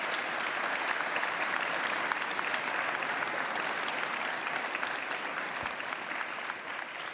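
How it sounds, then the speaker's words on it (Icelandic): An audience claps for graduates at a graduation ceremony, producing dense, sustained applause that holds steady throughout and fades slightly near the end. "Og við skulum bara klappa fyrir öllu þessu góða fólki."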